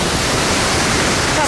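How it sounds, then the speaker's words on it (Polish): Waterfalls in Iceland's Snæfellsnes Peninsula roar with a steady, broad rushing wash of water, loud and unbroken throughout. "Mamy dwa wodospady. Słychać je chyba wyraźnie."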